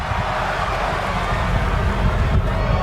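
A WWE 2K25 video game arena crowd cheers as a dense, loud, unbroken roar that stays at a constant level throughout, without any distinct voices.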